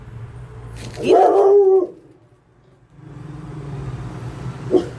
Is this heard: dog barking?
yes